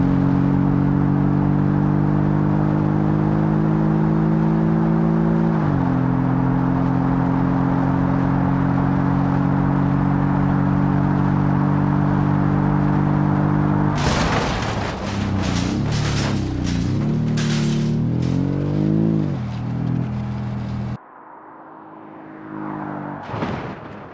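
A BMW X6M in BeamNG Drive drones along with a steady engine hum, then crashes through a series of gates with a rapid run of loud, sharp impacts and crunches before trailing off.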